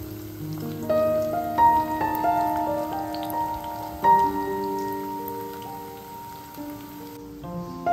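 Rain falling at home, a soft continuous patter of drops heard behind gentle tonal music, steady and moderately quiet throughout before fading near the end.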